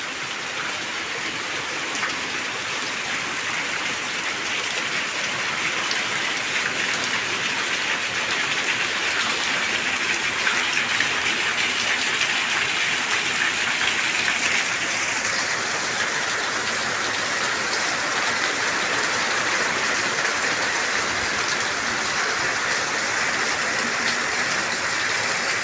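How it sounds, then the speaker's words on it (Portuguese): Steady rain falls on a home garden in a dense, even hiss that continues unbroken and fairly close throughout, with no voices. "a chuva chegou"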